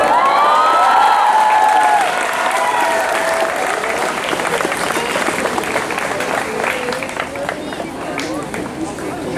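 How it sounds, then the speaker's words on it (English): Loud, sustained applause from an audience at a school recreation week event, dense clapping filling the room for several seconds, with crowd noise and voices mixed in. "Big round of applause."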